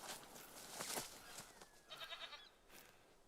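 A feral goat's mating call in the hunting game The Hunter: Call of the Wild, a few short bleating cries at moderate distance over quiet outdoor ambience.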